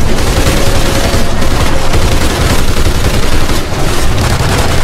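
Nonstop, dense, loud gunfire from the Call of Duty: Ghosts Extinction mode on PS3 fills the space, with sustained automatic shooting against aliens and little letup.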